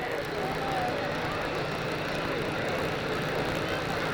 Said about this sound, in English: he gets the RPMs up this time